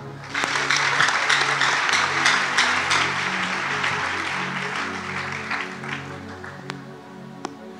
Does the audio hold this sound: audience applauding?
yes